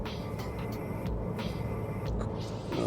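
Petrol engine of a 2010 Opel Astra heard from inside the cabin while driving, a steady low rumble with road and wind noise, moderately loud and continuous with no talk.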